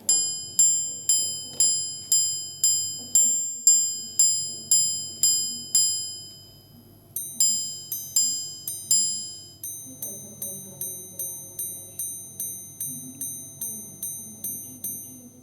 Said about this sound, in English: now additionally 14 chimes to indicate you the last 14 minutes to the full hour